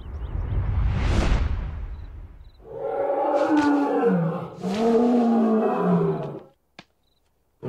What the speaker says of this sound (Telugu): కుక్కపిల్ల కాదు, పులి.